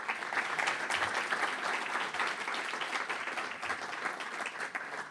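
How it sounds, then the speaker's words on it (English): An audience applauds steadily after a talk by a climate capital fund partner, the dense clapping sustained at an even loudness for about five seconds with no speech over it. "Can we give another round of applause for Juan?"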